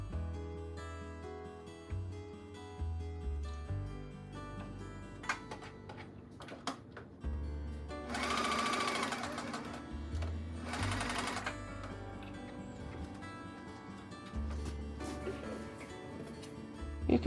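A sewing machine stay stitches the upper edge of a dress bodice in short runs of rapid ticking chatter, stopping and starting between bursts, close up, with a few rustles and handling noises.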